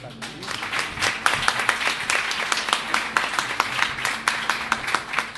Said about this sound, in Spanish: Y como están presentes, algunas me parece que habría que aplaudirlas